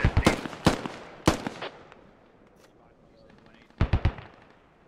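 Bursts of machine gun fire in the tactical shooter SquadOps, with loud rapid volleys near the start, quieter distant shots through the middle and another close burst near the end, alongside faint radio chatter.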